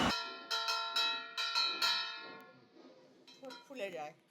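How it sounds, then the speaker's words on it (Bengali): Kansar gong and bells struck repeatedly during a puja aarti, several bright ringing hits about half a second apart with long metallic decay, fading into softer clangs near the end. "কাঁসর ঘণ্টা বাজছে"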